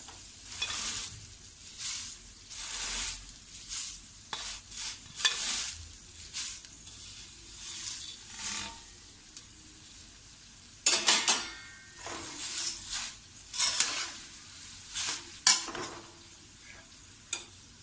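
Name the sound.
thin poha flakes added to pan and stirred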